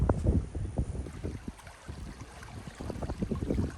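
Rainwater pouring out of a farm pond runs as a rushing, burbling flow close by, steady with small surges and no talking.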